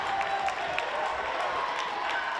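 A steady roar of crowd noise with scattered claps and cheers fills a high school basketball gym during a Milford Scarlet Hawks Senior Night game against Foxboro, continuous and fairly loud throughout.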